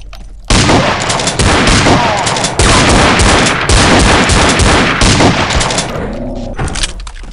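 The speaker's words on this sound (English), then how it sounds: "Damn shotgun." Shotgun blasts in the video game They Hunger, a loud continuous barrage of booming gunfire with reverberant tails, dropping away briefly near the end.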